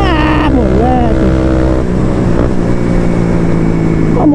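Honda CB 300 motorcycle engine revving near top speed, a loud sustained whine that sweeps in pitch as the revs rise and fall, over continuous wind roar.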